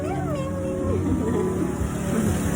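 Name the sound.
cat meowing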